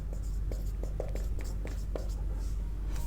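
Chalk or marker writes on a board during a maths lesson in a classroom, giving a series of short scratchy strokes over a steady low hum.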